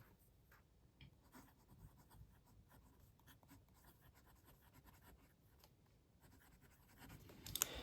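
Cross Townsend fountain pen with a steel medium nib writing on Midori paper, a soft, close, continuous scratching of the nib across the page, quiet and alone with brief strokes and pauses.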